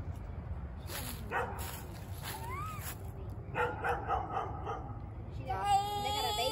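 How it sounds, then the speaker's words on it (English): A dog riding a hoverboard barks and yips several times in short bursts, fairly close, with a steady engine-like rumble underneath. "You hear the dog?"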